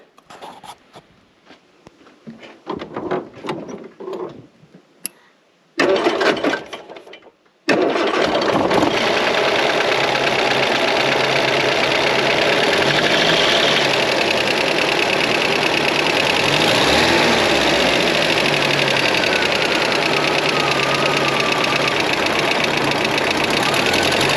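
A 1970 Rover 2000 engine, worked on after its immobilizer was disconnected, is heard close up: scattered clicks and handling noises give way to the engine starting and running, then a loud, steady, even drone with no talk.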